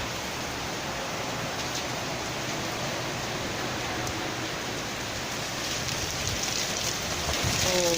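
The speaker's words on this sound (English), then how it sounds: "I am so happy when I see rains like this." Steady rain falling in Canada, a dense even hiss that continues throughout and swells slightly toward the end.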